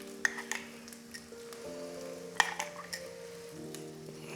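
Pad Thai sauce hitting a hot pan, a soft steady sizzle with a couple of sharp clinks and background music.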